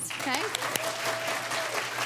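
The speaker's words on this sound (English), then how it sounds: "But you can give her a round of applause" Applause at a school awards ceremony, steady clapping under a host's voice with a brief spoken word over it.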